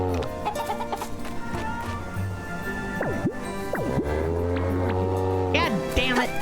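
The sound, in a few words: chickens clucking in Story of Seasons Grand Bazaar video game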